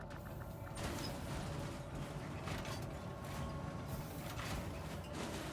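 Elevator ride in the space game Star Citizen, a steady mechanical hum with faint creaks and ratcheting clicks running continuously, fairly loud and even, no voices.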